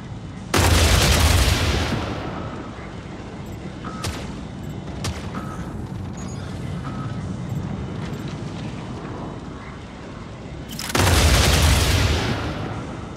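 Gunfire comes in during a video game battle over a control point, with a loud burst of shots at the start, scattered sharp cracks through the middle and another heavy volley near the end.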